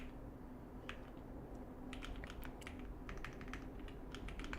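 Steady, unhurried typing on a computer keyboard during a coding session, soft clicking keystrokes in irregular bursts over a constant low background hum, no voices.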